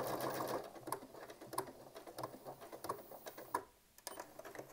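Janome DC3050 computerized sewing machine stitching a decorative test seam, a quiet, uneven series of light ticking and clicking needle strokes with brief pauses, heard close in a calm room.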